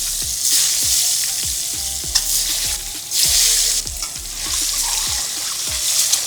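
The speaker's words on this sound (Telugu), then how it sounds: "ముందుగా బాయిల్ చేసి కట్ చేసి పెట్టుకున్న ఐదు గుడ్లను వేసుకొని మంచి రంగు వచ్చే వరకు వేయించుకుందాం" Boiled, cut eggs frying in hot oil with salt, turmeric and chili powder sizzle loudly and steadily, with regular scraping stirs of a utensil against the pan at close range.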